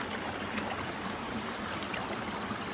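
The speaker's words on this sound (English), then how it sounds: "Here's some more little cascades." A small, shallow stream tumbles over little cascades in a steady, close, even rush of water that runs unbroken with no voices.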